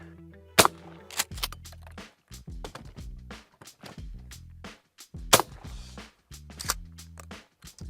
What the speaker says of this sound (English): Let's put one in the old Mossberg.